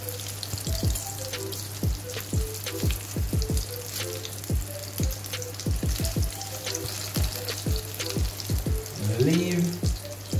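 Salmon potato patties frying in oil, a moderate crackling sizzle under a steady low hum, with intermittent bubbling pops and a brief rustle near the end.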